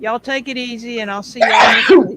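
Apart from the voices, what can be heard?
sneeze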